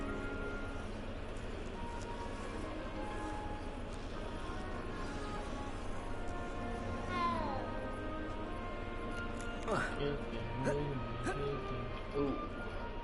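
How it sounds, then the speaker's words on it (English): A cat meows in a Harry Potter video game, short rising cries heard over steady game music and background sound, near the middle and again toward the end. "hello, kitty cat."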